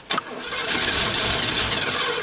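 A 1984 Oldsmobile Delta 88, parked for three years, starts with a brief crank and catch, then settles into a loud, steady, close-up rumble with no talking.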